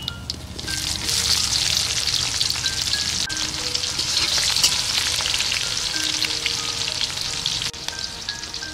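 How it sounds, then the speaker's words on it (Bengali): Whole spices and chopped onion hit hot oil in a pan while cooking Bengali chicken kala bhuna, a loud continuous sizzle with occasional stirring scrapes and small clinks, no talking. "এবার আমি যে গোটা মশলাটা রেখেছিলাম ফোড়নের জন্য সেগুলো দিয়ে দিচ্ছি। কুচানো পেঁয়াজটা দিয়ে দেব।"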